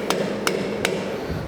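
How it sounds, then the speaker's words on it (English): Three sharp hammer blows at even intervals as a soft blow hammer drives pins onto levers of a LeBlond lathe quick change gear box, each strike clear and close over a steady low workshop hum. "So I'm driving these on with a soft blow hammer"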